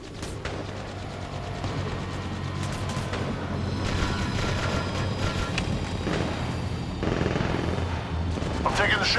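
Gunfire in Apex Legends: dense, continuous bursts of shots and mechanical clatter over several seconds, loud and close, with game voices mixed in.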